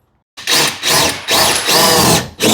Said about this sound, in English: Let's drill over there and put one more over there.